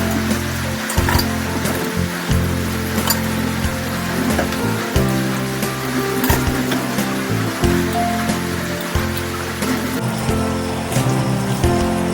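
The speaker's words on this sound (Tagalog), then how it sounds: "Grabe ang ulan." Heavy rain falls steadily, a dense wash of drops over a wet surface, close and constant throughout with no voices.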